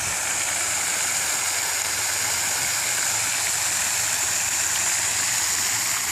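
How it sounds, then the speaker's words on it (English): A water fountain in a park sprays steadily, a continuous close rush of falling water with no pauses. "I'm going to head back over towards the fountain"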